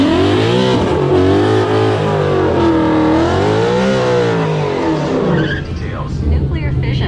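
A Tesla Model S Plaid and a Mustang launching side by side at a drag strip, engine and drivetrain sweeping up and down in pitch with tire squeal, loud and close, with a voice talking over it.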